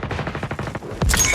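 Sentry gun in the Call of Duty Mobile video game firing a steady rapid stream of shots, followed by a louder, denser burst of gunfire near the end.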